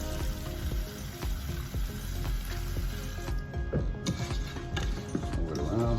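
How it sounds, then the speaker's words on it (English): Water is poured over turkey in a pot to rinse it with vinegar, giving a steady close splashing and sloshing with scattered knocks and clinks as the meat is moved about. "Pour some water on it."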